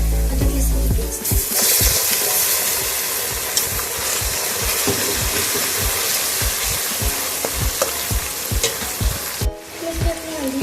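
Onions sizzle loudly in a frying pan as ginger garlic paste is added for green masala biryani, with steady crackling frying and repeated rhythmic scrapes of a spoon stirring the mixture, close up and without talk.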